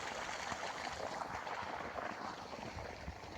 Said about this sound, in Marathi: हे मोटर चालू केली आहे बघा ज्वारीला पाणी लावले